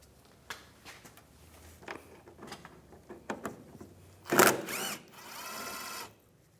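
Power drill with a 7mm socket backing bolts out of a front bumper side panel on a 2015-2019 Lincoln MKC, quiet clicks and handling noises, then a short loud whir and a longer steady buzz.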